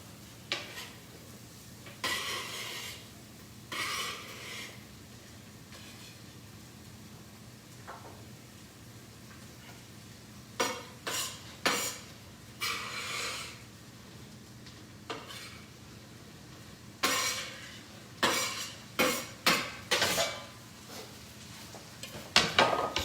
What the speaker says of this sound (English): I'm going to go ahead and I'm going to put this corn over in the pot